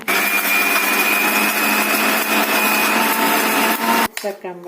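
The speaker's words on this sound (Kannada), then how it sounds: "ರುಚಿಗೆ ತಕ್ಕಷ್ಟು ಉಪ್ಪು ರುಬ್ಕೊಳ್ಳೋಣ" An electric mixer grinder grinds spices with salt for a spicy salt-based curry, a loud, steady high-pitched whirring roar that runs continuously, then cuts off abruptly as a voice begins speaking.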